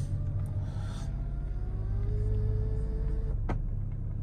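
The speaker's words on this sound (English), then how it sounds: "Let's start her up a second and just show you the startup sequence on the car anyway." A 2012 BMW X5 30d xDrive diesel starts up and settles into a steady, close engine rumble inside the cabin, with a rising whine and a sharp click near the end.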